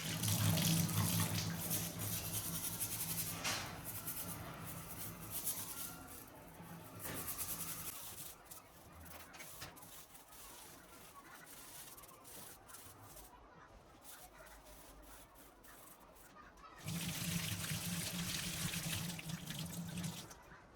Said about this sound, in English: Let me give it a wash to remove any dirt.